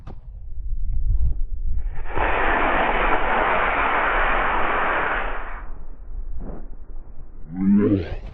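A model rocket lifts off on a D16 motor with a loud, sustained roaring rush lasting about three and a half seconds, which then cuts out and gives way to quieter outdoor noise with brief faint sounds afterward.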